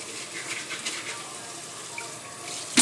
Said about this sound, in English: Put them under the water, swish them around in your sieve a little bit.